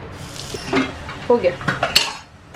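Metal utensils clink and scrape against a pot as dal tadka is stirred, close by, with a faint sizzle underneath.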